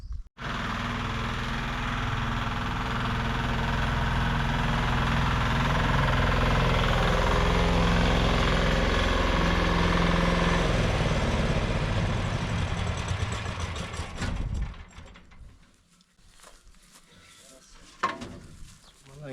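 A harvest machine engine idles during a grain harvest with a loud, steady, close drone for about fourteen seconds. It then cuts off, leaving quieter background sounds.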